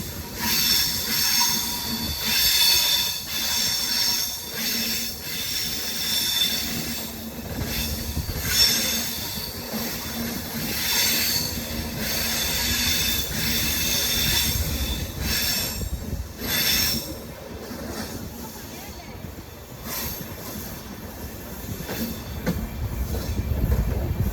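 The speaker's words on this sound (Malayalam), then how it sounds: "നമ്മൾ ഐക്കോണിക് ആയിട്ടുള്ള തിരിവ് തിരിഞ്ഞുകൊണ്ടിരിക്കാട്ടോ. ഇപ്പോൾ കൊല്ലം സ്റ്റേഷൻ വിട്ടുകൊണ്ടുള്ള തിരിവാണ്" Train with new LHB coaches rounding a curve as it leaves Kollam station, wheels squealing loudly and continuously against the rails under a steady rumble of rolling stock.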